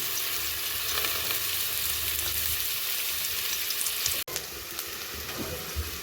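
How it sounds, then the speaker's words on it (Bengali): Onion and garlic fry in oil in a wok, a loud steady sizzle with occasional scraping and stirring sounds and a brief dropout near the end. "এবার এই কড়াই পেঁয়াজ রসুন দিচ্ছি"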